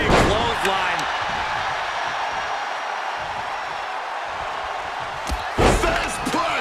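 Stone Cold Steve Austin landing a big clothesline on CM Punk in a wrestling ring, heard as a dull slam under a constant roaring arena crowd, followed by a couple of sharper impacts near the end.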